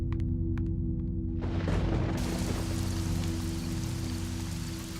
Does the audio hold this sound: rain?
yes